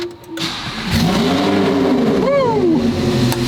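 A Lamborghini Huracan engine cranks and fires up, then revs sharply with a rising and falling howl before settling into a loud, close idle.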